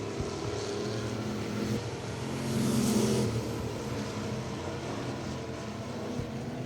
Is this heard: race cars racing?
yes